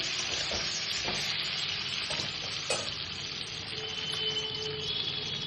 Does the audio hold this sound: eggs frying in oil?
yes